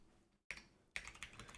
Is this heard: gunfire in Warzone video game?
no